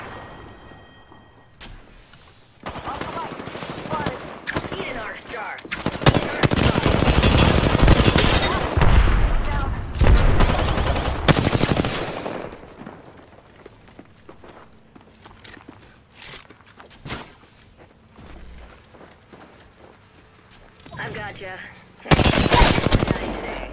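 Weapon fire in an Apex Legends Arena match, with dense bursts of rapid automatic gunfire, scattered single shots and footsteps, loud and close at times, while a character voice calls out.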